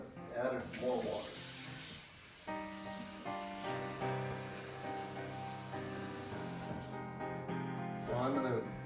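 Tap water pouring into a cooking pot in a kitchen, a steady hiss and splash with rising tonal ringing as the pot fills, bracketed by brief splashier bursts.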